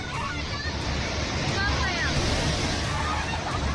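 Rushing floodwater current at Lonavala near Pune during heavy rain, a loud continuous roar and wash of water filling the scene, with faint voices of people in the background.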